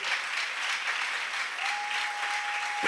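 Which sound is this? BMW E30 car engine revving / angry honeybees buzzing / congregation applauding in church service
congregation applauding in church service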